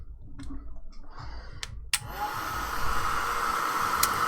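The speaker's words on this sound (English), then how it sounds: "Now I'm going to dry it" Hair dryer drying paint on a devotional craft page: a few soft clicks and handling noises, then a click as it switches on and a steady, close, loud whooshing whine that continues to the end.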